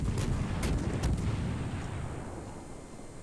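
Naval guns booming in World of Warships: a few heavy, close blasts crowd the first second, then a rumbling tail slowly fades.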